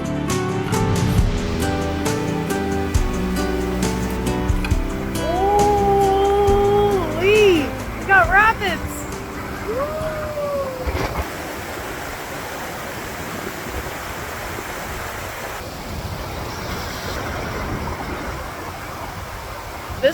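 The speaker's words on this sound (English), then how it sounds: "This water that's coming down from here, it comes from Squirrel Mountain" Steady rushing of a mountain stream flowing down from Squirrel Mountain on Cape Breton Island, a broad continuous wash of water with a voice talking over it early on.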